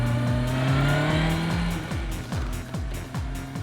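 A Kawasaki ZX9 motorcycle ridden slowly around town, its engine droning steadily close by, then revving and shifting through several quick rising and falling pulses near the end.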